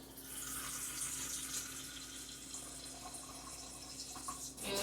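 Filtered water from a pitcher pours steadily into a soup pot for a chicken and vegetable soup, a soft continuous splashing stream that runs for several seconds and ends with a louder final splash.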